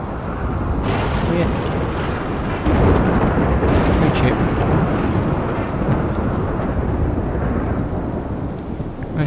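A loud thunderstorm in RimWorld with lightning hitting a tower: heavy rolling thunder and steady rain roar on for several seconds, with a sharper crack surging in partway through.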